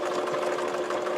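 Sewing machine stitching forward on a fabric flower applique for a quilt, a steady fast mechanical whir running continuously at close range with no talk.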